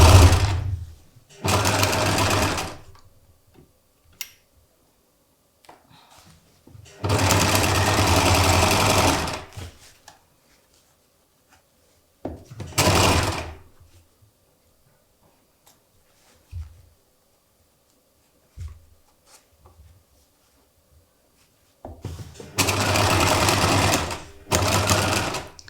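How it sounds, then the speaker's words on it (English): Sewing machine stitching a seam on silk for a couture beaded top, several loud continuous whirring runs of a few seconds each separated by silences and brief handling clicks. "I'm just going to machine that line down to secure the first row of stitching."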